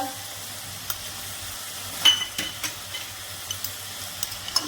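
Salt, turmeric, onion paste and spices frying in a pan with a hilsa fish head, a soft steady sizzle with scattered spatula clinks and scrapes, one louder stirring burst midway.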